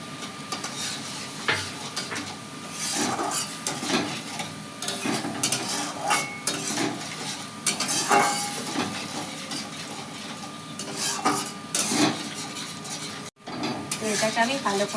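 Sugar stirred in a pan while making chicken momo, a steady scraping and clattering of utensil on metal with sizzling, close by, with a person talking throughout.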